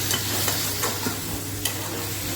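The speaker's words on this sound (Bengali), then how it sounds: "মশলাটা আর একটু ভাজা করবো," Spice masala sizzling and frying in a pan while being stirred, with a steady hiss and several distinct scraping stirs, close and clear with no talking.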